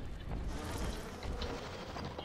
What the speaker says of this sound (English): Send out the bees, they'll weed out the fakers.